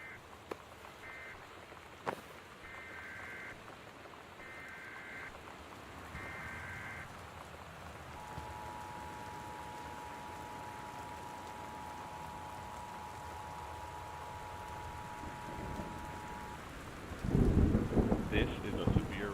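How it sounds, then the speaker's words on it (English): Steady rain and a thunderstorm in the game Gone Home, with a low, constant downpour throughout, a sharp crack early on, beeping tones from a weather alert, and a louder rumbling surge near the end. "The Northwest Weather Service reports high winds and torrential rain conditions"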